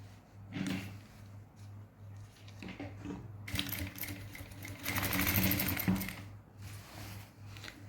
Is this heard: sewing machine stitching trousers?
yes